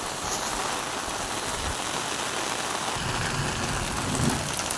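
Heavy rain pours steadily over open farmland, a dense continuous downpour with a faint low rumble near the end.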